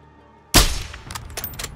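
A single sharp sniper rifle shot in the video game Call of Duty: Modern Warfare II, a sudden loud crack after a quiet lead-in, followed by a decaying echo and scattered faint clicks.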